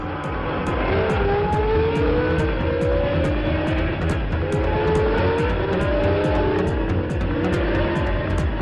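Formula 1 race car at Zolder in the 1980 season, its engine screaming loudly and steadily close by through the whole stretch, with tire noise, and no voices.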